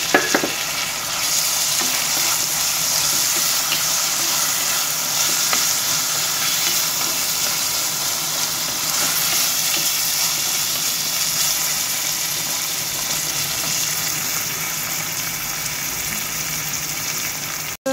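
Chopped onion with turmeric fries in a pan for a Goan karela fry, giving a loud, dense, unbroken sizzle that runs the whole stretch, with a brief clatter at the very start and end.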